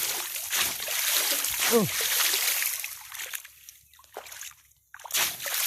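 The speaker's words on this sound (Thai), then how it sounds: "เร็วเร็วสาดน้ำให้เร็ว" Water is splashed vigorously in natural outdoor water, with several quick, near splashes and sloshes between pauses. Voices are heard around the splashing.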